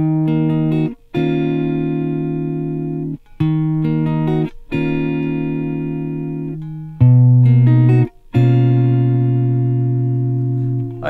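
An acoustic guitar plays the opening three measures of a song as a sequence of about six clearly ringing chords. Each chord sustains and decays before brief breaks between changes, with no voice.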